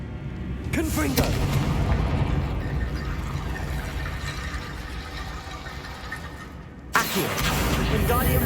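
A Confringo blasting spell is cast in the Hogwarts Legacy video game inside a tomb, bursting with a loud roaring boom and sustained rumbling blast that fades slowly, followed by another sharp explosive crack near the end.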